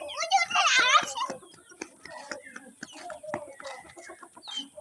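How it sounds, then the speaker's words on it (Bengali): Chickens cluck and squawk close by as a child chases after them, with an excited flurry of calls early on and scattered clucks amid voices afterward. "একটা ধরতে হবে মুরগি, একটা ধরতে হবে কিন্তু"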